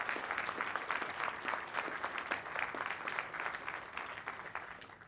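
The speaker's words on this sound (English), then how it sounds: "Please give this good man, Captain Carper, another round of applause for 50 years of serving our nation" A crowd at a Veterans Day ceremony applauds Captain Carper, honored for 50 years of serving the nation; steady, dense clapping from many hands continues throughout at moderate level and eases slightly toward the end.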